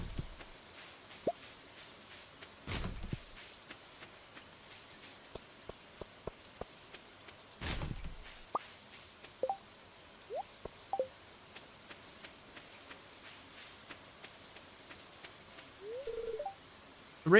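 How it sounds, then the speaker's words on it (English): Raindrops strike a metal trailer roof, sparse sharp pings and taps scattered irregularly over a soft steady patter, with a few louder thuds, close by and without voices. "The raindrops are really loud on the metal roof of our trailer."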